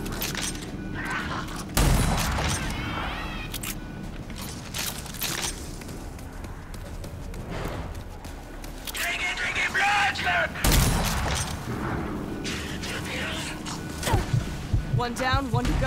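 Shotgun blasts in the video game Rage 2: a few loud, sharp booming shots stand out against busy in-game action noise, with a big blast near the start and another midway.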